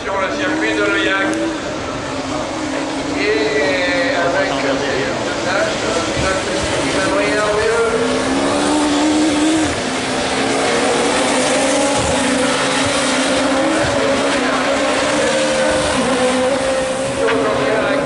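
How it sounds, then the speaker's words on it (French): Super 1600 rallycross cars racing at Lohéac during a French championship round, loud continuous engine roar with shifting revs from several cars, under a commentator's talk. "Et Fabien qui est en piste"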